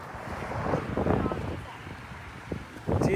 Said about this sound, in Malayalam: ഒടുക്കത്തെ കാറ്റ്, 25 km/h കാറ്റ്.